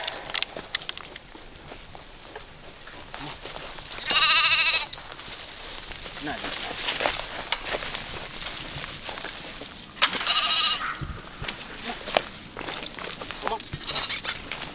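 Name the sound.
sheep bleating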